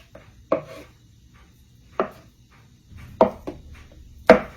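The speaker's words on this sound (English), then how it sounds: "take a knife and create little slices of butter" A knife cuts through half a stick of butter on a board in four or five separate soft thuds spaced unevenly, each close and short, with near silence between them.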